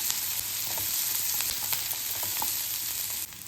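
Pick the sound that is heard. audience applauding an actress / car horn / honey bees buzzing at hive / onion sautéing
onion sautéing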